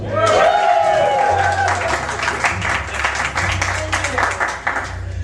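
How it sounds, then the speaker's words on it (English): Audience applause for the guests of honor at a tribute show, a steady dense patter of clapping with a voice and music tones under it at the start. "Big round of applause."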